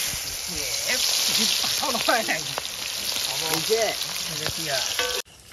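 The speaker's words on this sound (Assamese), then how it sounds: "এইফালে পুৰা একদম তেল হৈ গৈছে গৰম দি দিয়া থালি পিঁয়াজ" Onions frying in hot oil in a wok while making chicken chow mein, a steady close sizzle running throughout with voices talking over it, cutting off abruptly near the end.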